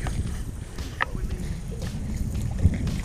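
A small boat moves across open water in New Zealand, with steady low rumble and wind buffeting the microphone, plus a few faint knocks.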